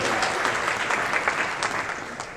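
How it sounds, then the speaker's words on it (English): Audience applause fills a conference hall at a supply chain summit, a steady patter of many hands clapping at moderate volume for a couple of seconds. "Actually, usually that gets applause."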